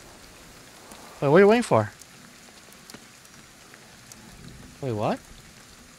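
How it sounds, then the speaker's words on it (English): Steady rain falls in the video game GhostWire: Tokyo as a soft, continuous hiss that carries beneath two short bursts of someone talking. "It's raining again."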